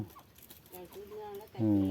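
Native Thai village chickens cluck in short bursts at a rural farm, several birds calling near and far, ending with a louder close cluck.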